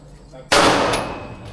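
A single loud gunshot at an outdoor shooting range in Betong, Thailand, a sharp close blast with a short decaying tail following quiet background.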